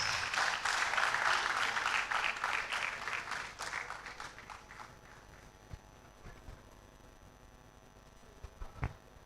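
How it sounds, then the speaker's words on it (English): A round of applause welcoming a reverend professor at a university inaugural lecture; clapping starts strong and dense, then thins out and fades to a few scattered claps. "Let's welcome him with a round of applause."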